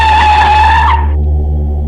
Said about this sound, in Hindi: मैंने गाड़ी को फ़ौरन ब्रेक लगाया।